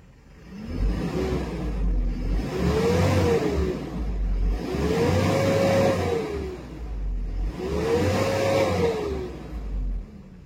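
A Mitsubishi Canter Euro 4 truck with a 4V21 diesel engine runs at about 800 rpm idle with a slightly faulty unit injector. It makes a steady, close, low rumble that swells and eases in regular waves every few seconds.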